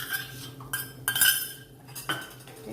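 A spoon stirs yogurt and gram flour together in a bowl for gravy, giving several close metallic clinks and scrapes against the dish in uneven bursts.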